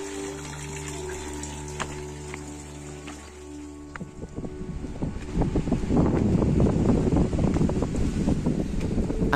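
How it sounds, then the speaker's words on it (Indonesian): Strong wind on a mountain trail at Gunung Andong's third post, buffeting the microphone in loud gusty rumbles that build and dominate the second half after a quieter start with a low hum. "Angin terasa sangat kencang di pos 3"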